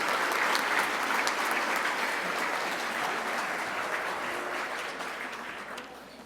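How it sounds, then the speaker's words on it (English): Sustained applause from a large audience at a chamber of commerce business awards gala, dense and steady clapping that fades slightly toward the end, with no talk over it. "let's have a round of applause for the head table"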